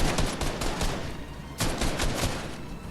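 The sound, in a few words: gunfire in the Fortnite video game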